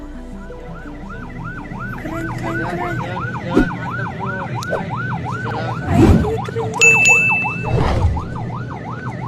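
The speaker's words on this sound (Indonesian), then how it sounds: "Dia sigap karena dengar sirine ambulans dari jauh." A wailing ambulance siren cycles steadily up and down on an Indonesian road near a barrier gate, loud and continuous, with scattered thumps and traffic noise and one brief spoken word.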